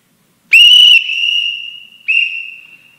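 A whistle blown at a public comment meeting gives a loud, shrill blast of about half a second that trails off, then a second, shorter blast, heard alone against silence.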